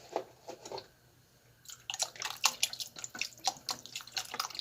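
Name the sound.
broth being poured into turkey dumpling stew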